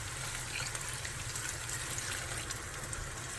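Beef broth poured into a pan, a steady continuous liquid pour with low rumble and broad splashy hiss throughout, close and alone without talk.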